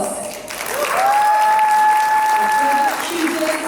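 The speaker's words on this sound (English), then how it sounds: "Let's give him a warm round of applause." An audience at the Himalaya Airlines 10th anniversary celebration breaks into loud, sustained applause that swells and holds steady, with a faint steady tone ringing through the hall.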